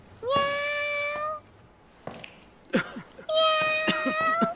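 A cat meows twice, loud and close, each call drawn out and separated by a short pause and some faint rustling.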